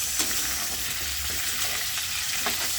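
Ingredients for sweet and sour chicken sauté in a hot pan with a steady, close sizzle and a few soft stirring scrapes, no voices over it.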